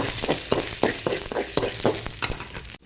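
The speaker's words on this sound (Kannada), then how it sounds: "ಸಾಸಿವೆ ಹಾಕ್ಕೊಳ್ಳಿ ಒಂದು ಅರ್ಧ ಚಮಚ ಹಾಕ್ಕೊಂಡು ಸ್ವಲ್ಪ ಫ್ರೈ ಮಾಡ್ಕೊಳ್ಳಿ" Cumin, coriander seeds and mustard seeds fry in a pan with a moderate crackling sizzle, punctuated by regular stirring scrapes about every quarter second and no talking.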